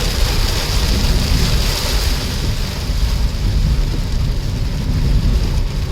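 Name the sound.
heavy rain at night while driving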